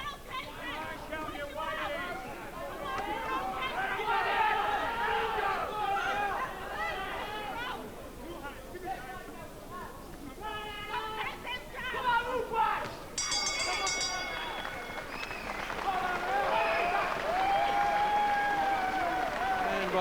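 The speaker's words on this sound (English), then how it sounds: "The applause there." A boxing crowd applauds in a hall during a British title eliminator bout between Kelton McKenzie and Alan McKay, the clapping and murmur rising between stretches of commentators talking.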